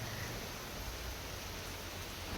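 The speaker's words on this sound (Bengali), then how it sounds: "বাইরে বৃষ্টি" Steady, even rain hiss fills the air, a soft continuous wash with no voices or distinct drops standing out.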